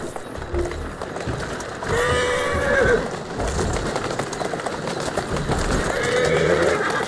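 Horse in the video game Assassin's Creed Syndicate whinnies twice, a loud, wavering neigh near the middle and another toward the end, over a steady bed of clopping hooves and background game ambience.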